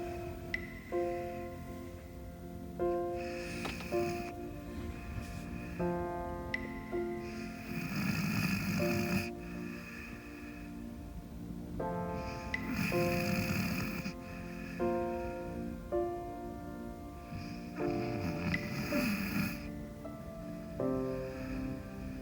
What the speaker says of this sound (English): listening to both of them snoring away